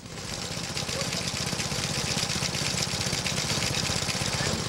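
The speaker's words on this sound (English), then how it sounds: "All powered by Briggs & Stratton engine." A vintage grass cutter powered by a Briggs & Stratton engine runs at a steady, close chugging idle with a rapid regular beat, shown at a festival.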